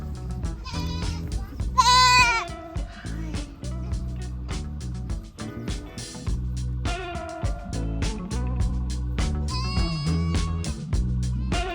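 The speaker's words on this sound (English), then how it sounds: "I think what these cute goats are trying to say" Goats bleat repeatedly on a Gulf Island in Canada, with several wavering cries rising over a busy, continuous background of thumps and clatter.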